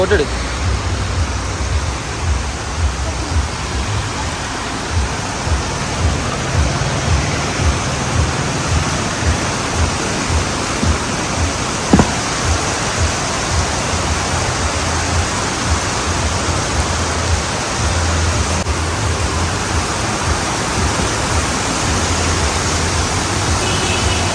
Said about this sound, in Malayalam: അടിപൊളി മഴയെന്ന് വെച്ച് കഴിഞ്ഞാൽ അടിപൊളി മഴ കേട്ടോ. അതെ തകർത്ത് പെയ്യുന്നത്